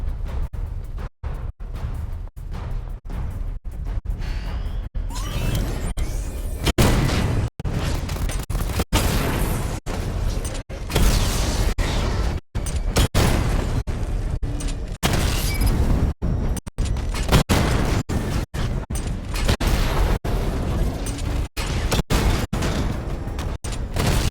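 Missile barrage explosions go off in a video game's weapon diagnostic simulation, a dense nonstop run of booms and mechanical bursts with sharp cuts between blasts, loud and close throughout.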